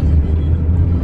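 A car on the road gives a steady, loud low rumble throughout a short stretch, with no voices.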